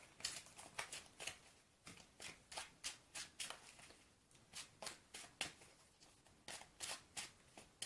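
A deck of Magic: The Gathering cards is riffle-shuffled again and again, each pass a quick crisp flutter of cards in a regular rhythm, close and fairly quiet with no voices.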